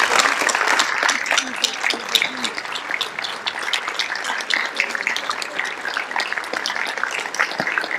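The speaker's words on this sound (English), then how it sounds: "a big round of applause for our" An audience at a council general assembly meeting applauds with sustained, dense clapping that fills the room. Faint voices mix in underneath.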